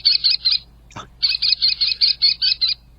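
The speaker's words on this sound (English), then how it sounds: "An American kestrel." An American kestrel calls in a rapid series of sharp, high-pitched notes, a short burst followed by a brief pause and a longer run of evenly spaced cries, close and clear.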